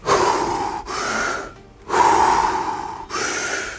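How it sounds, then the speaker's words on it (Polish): Deep Wim Hof method breathing: three long, forceful inhales and exhales in a steady rhythm, close and loud, separated by short pauses. "Bierzesz 30 bardzo głębokich wdechów i wydechów."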